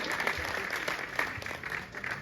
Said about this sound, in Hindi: आपकी तालियां कमजोर है, मुझे मजा कमाना है, सब एक साथ बजाइए